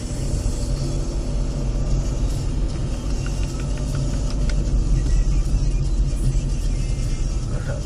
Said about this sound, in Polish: Samochodów trochę jest.